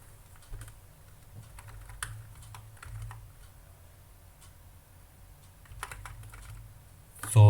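Computer keyboard typing while JavaScript code is fixed: quiet, irregular clusters of light key clicks spread across the whole stretch, with a louder thump right at the end.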